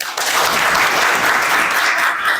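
An audience at a National Youth Day celebration for Swami Vivekananda's birth anniversary claps in a loud, dense burst of applause, sustained throughout, close and without talk.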